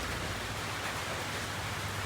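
Monsoon rain falls steadily during a fishing trip, a dense, even hiss of drops on surfaces that holds at moderate level throughout with no voices.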